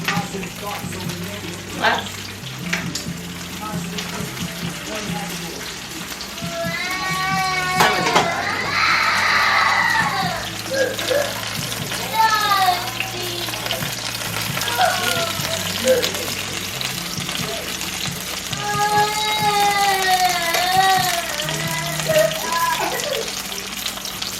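Fennel frying in a pan, a steady sizzle with stirring and occasional clinks, with a person talking over it at times.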